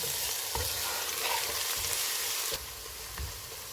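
Onions, ginger-garlic paste and chopped green chillies frying in hot oil: a loud, continuous sizzle with a few soft spatula knocks against the pan, dropping slightly in level near the end.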